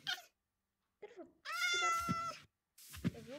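Minecraft cat meows in the video game, several separate harmonic cries with gaps between them, fairly close and clear, with no talk over them.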